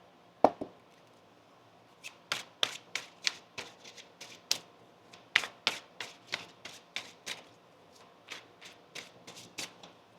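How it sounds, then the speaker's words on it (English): Tarot cards are shuffled and riffled in a series of quick, crisp flutters and taps, close and clear against a quiet background. "One more shuffle here."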